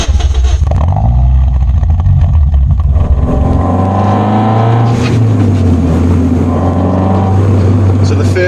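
A Toyota Yaris T Sport pulls away with a loud, close engine and exhaust note whose pitch climbs steadily through the revs, carried under a continuous layer of talk.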